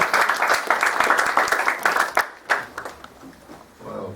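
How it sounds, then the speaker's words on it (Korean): Lively applause from a conference worship audience fills a hall, dense steady clapping for about two seconds before thinning into scattered claps and fading. "우리 다시 한번 박수 한번"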